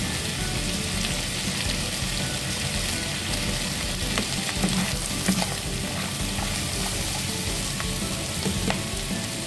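String beans and pepper cooking in a hot pan for ginataang sitaw, a steady loud sizzle and crackle of frying with faint stirring throughout, no voices.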